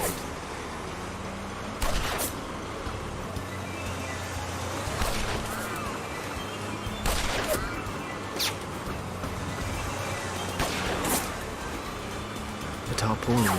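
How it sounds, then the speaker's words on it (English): A volley of shots rings out in the video game Lost Horizon while the player rides in the back of a moving truck, with sharp cracks repeating every couple of seconds over a steady engine rumble and a voice talking. "Fireworks parade."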